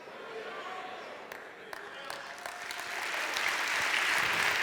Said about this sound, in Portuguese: A moçada que aplaudiu,